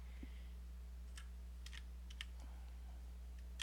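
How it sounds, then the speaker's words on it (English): Typing on a new computer keyboard, with scattered quiet key clicks in short irregular bursts over a steady low hum, and no talking. "I just got a new keyboard, so so the keys are position I'm unfamiliar."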